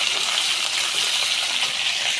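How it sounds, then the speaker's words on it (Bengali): A large fish head fries in hot oil for mung dal, giving a steady, loud, close sizzle and crackle with no voices. "মাছের মাথাটা একটু ভেজে নিচ্ছি, বড় একটা মাছের মাথা।"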